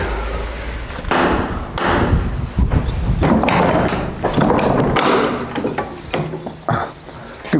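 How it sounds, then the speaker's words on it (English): Someone knocks on the front door of Tissington Hall, an English country house; a run of loud, close thuds and raps repeats over several seconds with faint background noise. "Oh, knock."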